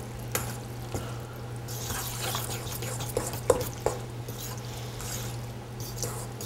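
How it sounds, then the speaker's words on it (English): Shredded cheese is stirred into Tex Mex mac and cheese, giving soft, wet scraping and a few squishy clicks near the pot over a steady low kitchen hum. Nobody speaks. "make sure you mix it good enough just so the shredded cheese can go ahead and melt and mix in real nicely with the rest of the cheese"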